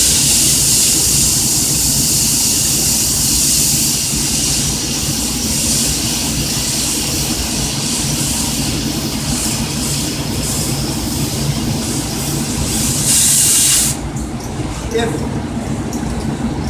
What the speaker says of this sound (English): I'm gonna heat that edge till it starts blistering. Then I pull the trigger.